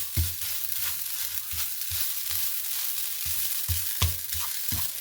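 Grated coconut roasts in a pan for a Kerala koottu curry, a continuous bright sizzle broken by regular low scraping thumps as it is stirred, close and steady with no talking.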